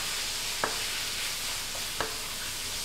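Onion powder and seasonings for a beef empanada filling are stirred together in a pan, giving a quiet, steady sizzle-like hiss with two faint utensil taps, close by and without talking.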